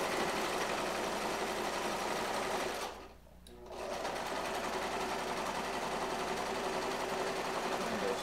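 A domestic sewing machine stitches the seams of a synthetic-fabric rabbit toy, running loud and steady, cutting out for about a second, then whirring on again at a constant pace.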